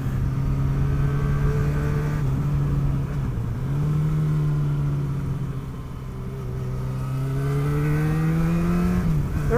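A motorcycle ridden slowly and smoothly gives off a steady engine drone whose pitch rises and falls gently as the throttle is eased on and off, with steady wind and road noise and no talking.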